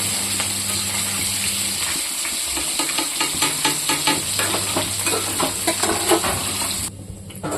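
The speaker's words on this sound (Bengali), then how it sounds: "দেখুন, এরকম করে আমি মাছটা ভেজে নেব" Boal fish fries in a pan with a loud, dense sizzle, punctuated by quick, rhythmic scraping and clattering from the utensil before the hiss briefly drops near the end.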